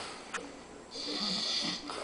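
A sleeping Filipino man snores nearby, with one slow, rasping breath swelling and fading, plus a brief click just before it.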